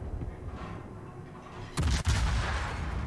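In World of Warships, a Salem warship's guns fire over an island. A sudden heavy boom breaks through a quiet ambient backdrop, followed by a short second blast and a lingering rumble.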